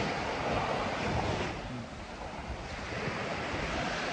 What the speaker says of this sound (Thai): ฟังเสียงคลื่นเสียงลมนะครับ